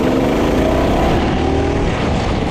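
Small $100 minibike engine revving hard during a wheelie, a loud, continuous buzzing roar close by, steady throughout with no talk.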